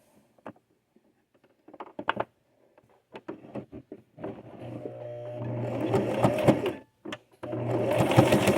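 A sewing machine stitches darts in a fabric bowl cozy, starting with a few scattered clicks and handling noises, then running in two steady close bursts of rapid needle whirring separated by a short pause.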